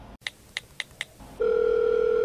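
A telephone sounds indoors: four short, evenly spaced beeps followed by a loud, steady, continuous tone, with no one speaking.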